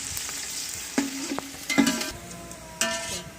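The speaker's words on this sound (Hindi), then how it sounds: "इसके लिए हमने सरसों के तेल में 2 मीडियम साइज़ के प्याज जो है वो ब्राउन करने रख लिए हैं" Onions browning in mustard oil, two medium-sized ones in a pan, give a steady sizzle broken by a few louder stirring scrapes and clatters, close and alone without voices.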